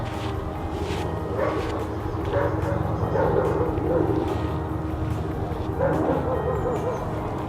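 A Shiba Inu on a leash barks and whimpers in short bursts during a training session, close by and mixed with people talking.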